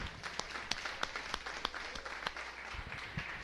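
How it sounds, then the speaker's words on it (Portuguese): Applause from a church congregation, scattered claps with sharp individual hits rising above a fainter spread of clapping, moderately distant, with a few voices underneath. "Ao Rei dos Reis, palmas."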